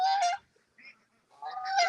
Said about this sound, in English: You know, what a guard goose you are.